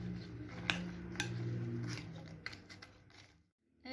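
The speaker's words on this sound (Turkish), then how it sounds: "Aşağıdan yukarı doğru bu şekilde karıştırıyoruz." Quiet scraping and occasional clinks of a utensil folding mosaic cake mixture from the bottom up in a bowl, close and soft, fading to near silence at the end with no voices.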